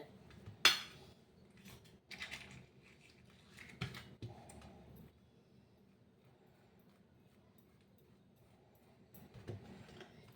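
A knife scrapes and taps on bread while Amul butter and jam are spread on a maska bun, giving a sharp click near the start, then a few soft scraping bursts and light clinks amid quiet pauses.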